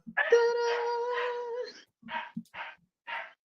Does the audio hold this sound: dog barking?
yes